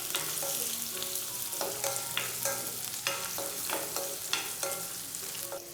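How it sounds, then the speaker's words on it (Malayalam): Shallots sautéing in a pan over a medium flame for a Kerala-style idli kurma, with a steady sizzle and repeated scraping and stirring strokes at close range and no voices. "ചെറിയ ഉള്ളിയും ചേർത്ത് കൊടുത്തതിന് ശേഷം നല്ല രീതിയിൽ തന്നെ ഒന്ന് വഴറ്റിയെടുക്കുകയാണ്"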